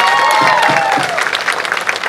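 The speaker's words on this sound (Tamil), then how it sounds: "அவங்களுக்கு ஒரு பெரிய கரகோஷத்தை நம்ம கொடுத்தாகணும்" Audience applause for performers at a launch event in a Tamil arts setting, a dense burst of clapping from a crowd, loud and close, with a voice speaking over it.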